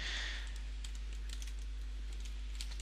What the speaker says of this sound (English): I'm gonna type here TabControl 1